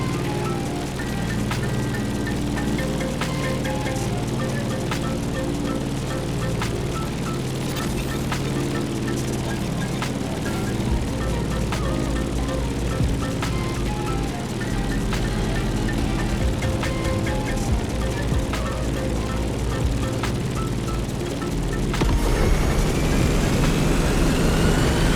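Airplane in The Crew Motorfest video game flying aerobatics low through a canyon and city, a steady loud engine drone with game music and effects layered over it, shifting tone near the end.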